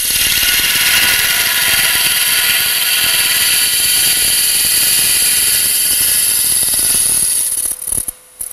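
A wood lathe spins while a tool cuts a bevelled hat brim on a wooden snowman, giving a loud, steady whine and hiss of cutting that drops away near the end.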